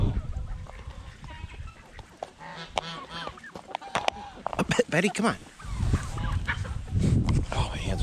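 Chickens squawk and cluck close by in a lively flock, with someone talking briefly over the calls.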